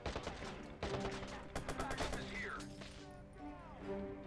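Rapid gunfire bursts in the PC video game Watch Dogs, loud, sharp shots in quick clusters with someone talking over part of the action.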